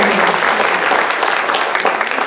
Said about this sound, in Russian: Ему тоже аплодисменты обязательно